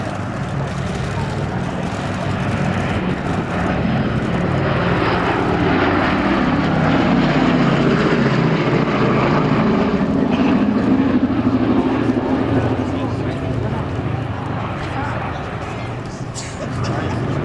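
Piston engines of the B-17 bomber Sally B, four turbo-supercharged Wright Cyclones of about 1,200 horsepower each, drone as a sustained broad roar from a passing aircraft at an Old Warden airshow, steady throughout beneath faint talk.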